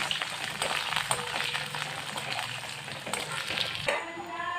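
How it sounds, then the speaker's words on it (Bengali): Chopped onions frying in oil with whole garam masala and bay leaf, giving a dense, steady crackling sizzle close up with occasional stirring clatter. "দিয়ে দেবো টুকরো করে রাখা পেঁয়াজগুলো দিয়ে হালকা করে আমি ভেজে নেব"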